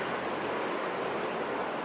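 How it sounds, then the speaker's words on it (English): Water rushing fast through sluice gates beside water wheels, a steady dense roar of flowing water that stays even throughout, with no voices. "The water's rushing by so quickly."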